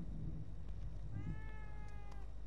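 A cat in the video game The Evil Within 2 gives one faint, drawn-out meow over a low steady background hum, alone with no talking.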